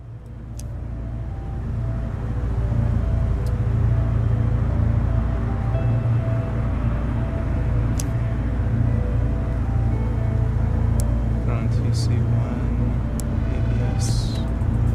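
Simulated M2 car engine in a racing video game: a steady, loud engine drone builds in the first couple of seconds and holds throughout, with occasional faint clicks on top.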